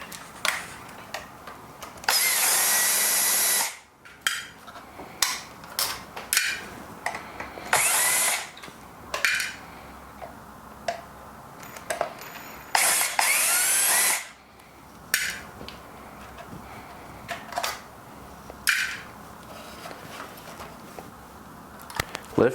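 A power drill removes screws from a gearbox and motor assembly on a conical timer, giving several loud, close whirring bursts separated by clicks, rattles and handling noises.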